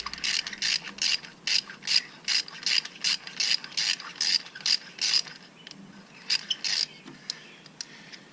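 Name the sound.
socket ratchet loosening spark plug on Ford Transit Connect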